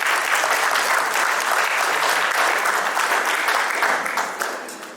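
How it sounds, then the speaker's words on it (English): An audience at a 25th wedding anniversary celebration applauds loudly and steadily for about five seconds before the clapping begins to fade. "so a big applause for that, please."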